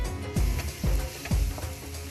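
Salt, turmeric, chilli and cumin powder sauté in a pan with a soft sizzle, broken by three even, thudding stirs of a spatula.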